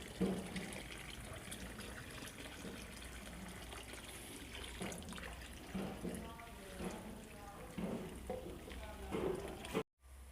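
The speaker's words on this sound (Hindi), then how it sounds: "ये देख रहे हैं पानी इसमें सारा जा रहा है" Water pours and gushes into a container holding soda during a kasis bhasma preparation, a steady running fill heard under nearby talk throughout.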